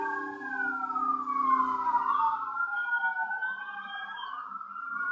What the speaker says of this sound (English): It's been a lot of sirens, man.